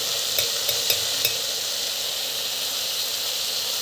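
Chili powder is stirred into food sautéing in a pan with a loud, steady hissing sizzle. A few quick spoon clicks come early, then the hiss continues alone.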